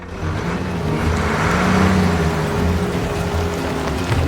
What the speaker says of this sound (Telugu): Lorry reverse.